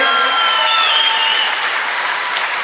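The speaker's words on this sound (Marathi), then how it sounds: "त्या आमच्या सासू आईसाठी एकदा जोरदार टाळ्या होत्या" Students give loud, sustained applause, a dense wash of clapping that continues evenly from start to end with no break.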